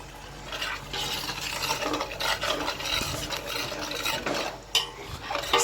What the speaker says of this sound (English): Stirring it, let it boil for about 10 minutes